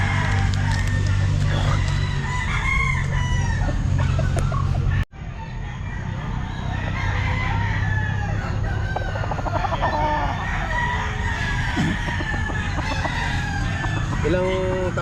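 Roosters and gamefowl crowing and clucking at a busy pet market, several birds calling over steady crowd noise and murmuring voices, with a brief cut partway through.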